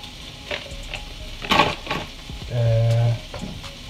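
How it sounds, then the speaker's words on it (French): Poultry lardons sizzle in a hot pan, with scraping stirs and clatter breaking in every so often and a short steady hum near the end. "C'est sur le feu là. Donc on a des lardons de volaille."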